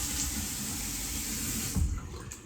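Tap water running into a sink while rinsing off after a shave, a steady close rush that cuts off near the end, leaving a few faint drips and splashes.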